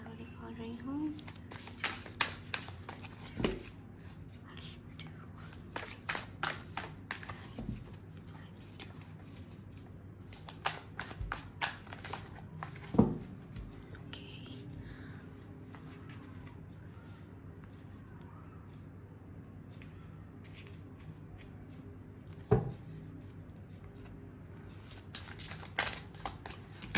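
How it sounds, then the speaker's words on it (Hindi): Tarot cards shuffled by hand in bursts of crisp riffling and flicking, repeating several times with pauses, under near-constant talk from a woman. "मुझे लग रहा है मेरे कार्ड्स ठीक से शफल नहीं हो पा रहे हैं"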